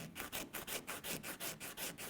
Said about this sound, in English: grab a piece of 80 weight sandpaper, because I can smooth it up a little bit more than I left it with the chisel